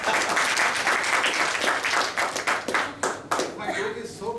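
Workshop audience clapping in a room, brisk and full at first, then thinning into scattered claps with a voice speaking over the tail.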